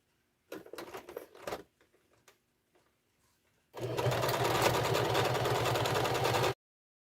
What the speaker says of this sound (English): I'm just going to finish off now with some zigzag stitches around the three sides